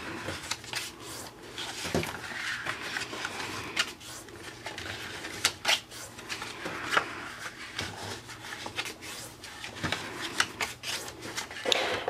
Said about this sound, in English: I'm going to fold along all of my score lines and burnish well